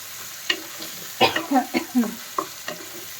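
Masala paste fries in oil in a pan, a low sizzle under a run of close, thick scraping and squelching stirs, several in quick succession.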